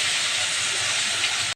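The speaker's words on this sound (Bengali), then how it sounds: "আলুটা ভেজে নিচ্ছি।" Potatoes fry in a pan with a loud, steady hiss of hot oil, close and unbroken before it cuts off abruptly, with no voices.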